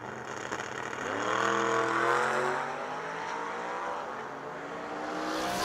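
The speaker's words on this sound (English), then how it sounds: "Michael Cashman, the white 69 Chevy Camaro in the left lane. John Grob Jr. in the 85 Corvette." A white 1969 Chevy Camaro and a 1985 Corvette roar off the line in a drag race, engines rising and surging loudly, then holding a sustained high roar as they pull away.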